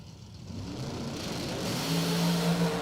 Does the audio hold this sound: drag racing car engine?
yes